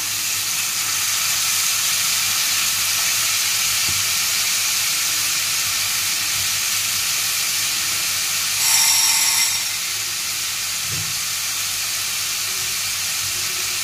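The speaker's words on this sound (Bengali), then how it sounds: "যতক্ষণ তেল না বেরোবে ততক্ষণ এইভাবে কষাতে হবে।" Spices frying in oil in a pan as they are cooked down, giving a steady, loud, continuous sizzle and hiss throughout, with a brief brighter surge of sizzling midway.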